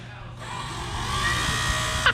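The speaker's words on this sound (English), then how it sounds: "Wes, go flip on the first Holley switch to turn the pumps on" Holley electric fuel pumps on a 5.3 LS engine build switch on with a high, steady electric whine that starts suddenly and keeps running, close and fairly loud, with voices partly over it.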